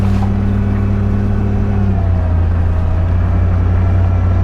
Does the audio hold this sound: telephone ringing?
no